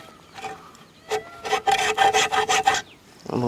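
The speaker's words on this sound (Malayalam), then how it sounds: "നമ്മൾ റൗണ്ട് ഇട്ട് ഇനി കറക്റ്റായി കട്ട് ചെയ്ത് നിർത്താൻ വേണം" Bamboo pieces being cut by hand for bamboo biryani in a village outdoor kitchen, a close, rhythmic rasping saw-like scrape in quick repeated strokes after a few isolated scrapes.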